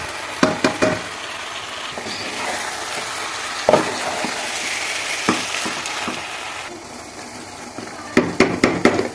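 Onion frying in a pan for chicken biryani gives a loud, continuous close sizzle, broken by repeated sharp knocks and scrapes of a spatula stirring against the pan, no talk.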